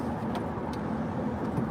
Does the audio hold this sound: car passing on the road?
yes